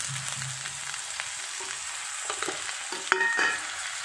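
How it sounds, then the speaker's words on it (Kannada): Tomatoes for a tomato chutney fry in a pan with a steady sizzle, broken by light scrapes and a sharper clink near the end, all without any talking. "ಈಗ ಟೊಮೆಟೊ ಹಾಕ್ಕೊಳ್ತಾ ಇದ್ದೀನಿ"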